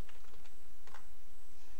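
Fingers tapping a password on a computer keyboard while setting up Linux, a quick run of light, irregular key clicks, close and alone.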